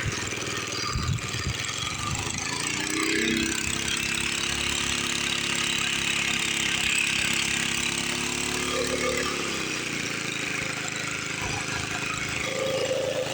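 A Jari sickle bar mower engine runs steadily while cutting grass, a continuous mid-pitched mechanical drone that holds level and close for the whole stretch, with no speech over it.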